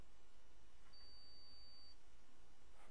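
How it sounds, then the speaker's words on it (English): A digital multimeter gives one steady high continuity beep for about a second while its probes test a SATA cable, over a faint hiss with no voice. "So my multimeter is set to test the continuity on here."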